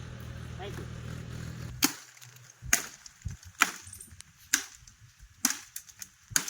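Sharp chopping strikes on tree branches, about six blows at a steady pace after a stretch of low background noise, fairly close and crisp.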